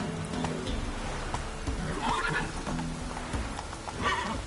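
Horse hooves pounding at a gallop in The Witcher 3 open-world video game, with whinnies and neighs rising over the steady running beat, close and moderately loud with no talk.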